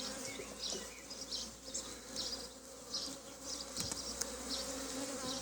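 Honeybees buzz steadily at a hive frame where the queen has laid brood in drawn comb, a dense continuous hum that stays close and even, with no voices.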